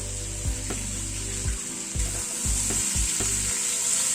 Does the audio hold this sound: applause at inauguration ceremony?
no